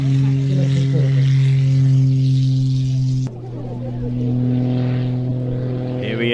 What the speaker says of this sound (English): With the muscle biplane getting airborne immediately